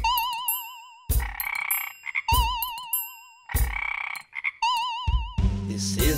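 Cartoonish frog croak sound effects in a children's song, several loud bursts repeating between bright, warbling musical tones.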